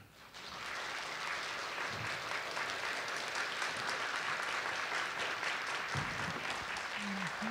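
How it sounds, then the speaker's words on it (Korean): Steady, dense applause from a lecture audience welcoming a Korean novelist onto the stage, rising quickly after a soft start and holding evenly for several seconds, with a few low thumps near the end. "큰 박수로 정유정 작가님을 모셔보겠습니다"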